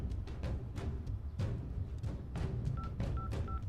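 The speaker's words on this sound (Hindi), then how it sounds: "तू पुलिस को फोन क्यों लगाएगा?" A phone is dialed to call the police in a Kannada film scene: short electronic keypad tones come in a quick series near the end over a steady background hum.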